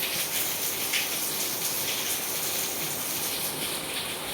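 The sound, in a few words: rainwater gushing strongly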